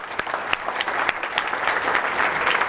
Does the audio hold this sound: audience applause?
yes